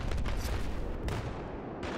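Mortar rounds fire and land in Battlefield 3 on the Seine Crossing map, a dense run of overlapping booms and blasts that goes on without a break, with no talking over it.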